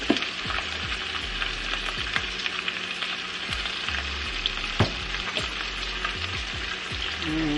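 A seasoned Cornish hen with potatoes, thyme, salt and black pepper sizzles in a Dutch oven, giving a steady, close frying hiss with occasional scraping stirs and clinks, no talking.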